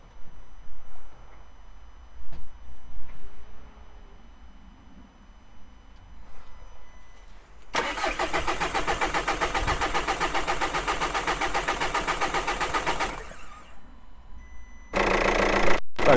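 A Volkswagen Passat TDI diesel engine cranks and fires after sitting unused for a long time, settling into a steady, loud, close idle that cuts off briefly and then restarts, with no talking.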